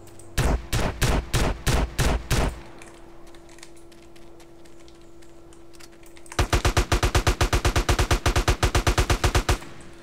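Two bursts of rapid automatic AK rifle fire in a GTA San Andreas video game, a short volley of about nine shots, a pause over steady background hum, then a longer even string of loud shots.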